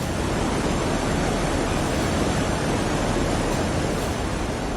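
Fast-flowing river floodwater in Darjeeling after landslides and heavy rain roars in a loud, dense, unbroken rush, close and overwhelming with no voices.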